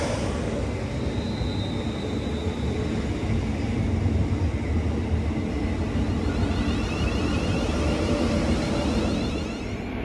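A Class 350 electric train at Bletchley station makes a steady broad rumble and hum at moderate loudness with a faint whine, no talk, as it runs through the platform.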